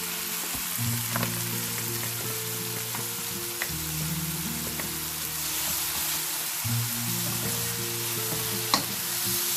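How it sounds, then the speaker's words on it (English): Onions frying with garlic and ginger for an Indian breakfast, giving a steady, close hissing sizzle throughout with a few faint stirring knocks and no speech. "Now we are going to cook the onions until they change."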